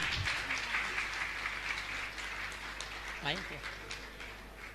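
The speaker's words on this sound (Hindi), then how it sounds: "आप जोरदार ताली बजाकर इनका सम्मान करें।" Applause from an audience at a Jain religious gathering, a steady rattle of many hands clapping throughout, with a brief voice breaking through partway.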